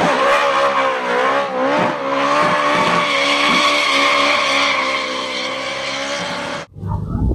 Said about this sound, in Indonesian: Wow, lihat di sini ada mobil balap.